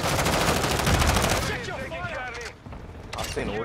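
Rapid M16 rifle fire in the video game Modern Warfare 2, a loud fast burst for about a second and a half, then quieter scattered shots under a voice talking.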